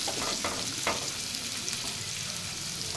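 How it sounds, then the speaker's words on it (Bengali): Potatoes and chopped chili sizzling in a pan over low gas as they are stirred, a continuous close fry with a few scraping stir strokes early on and no talk. "আলু আর লঙ্কা কুচিটা একটু নাড়িয়ে নেব"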